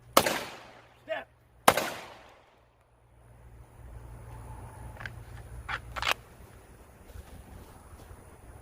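Live handgun fire during a close encounter retention drill: a few sharp, separate shots crack out early, then fainter pops follow against wind noise on the microphone.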